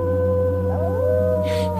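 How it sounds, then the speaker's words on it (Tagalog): Long rising howl of a monster in a rural provincial setting, loud and sustained over a droning background, with another howl answering faintly toward the end. "Sinundan pa yun ng iba pang alulong na tila tumutugon sa panawagan ng naunang alulong."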